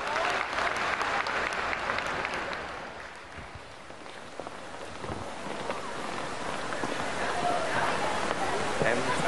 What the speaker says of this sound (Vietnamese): nhận được một tràng pháo tay thật lớn từ quý vị